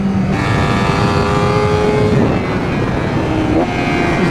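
A 2024 Honda Fireblade SP superbike engine held at high revs, a loud buzzing howl with layered harmonic tones that rise and fall slightly as the throttle is worked.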